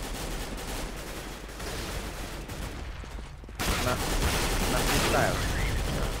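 CS:GO gunfire on the Nuke map, a dense, continuous roar of shots that grows louder partway through, with players talking over it.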